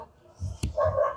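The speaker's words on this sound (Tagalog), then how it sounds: "kahit merong halong kahol ng aso" A dog gives a few short barks or yelps over a call-in phone line, brief and moderately loud, with faint voices behind it.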